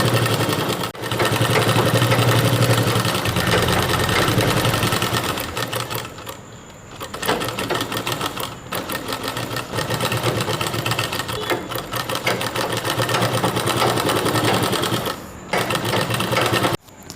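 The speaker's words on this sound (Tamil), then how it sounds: "இப்போ நம்ம கீழேயும் மடித்து தைச்சிட்டோம்." A sewing machine stitching the double-folded hem of baby pyjama pants, a fast, loud, close mechanical chatter running almost nonstop, with a couple of short pauses between runs of stitching.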